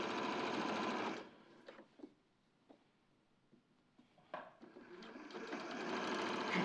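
A sewing machine stitches around a garment neckline toward the shoulder seam, running loud and continuous, pausing briefly with a few soft clicks and handling sounds, then starting up again at full speed.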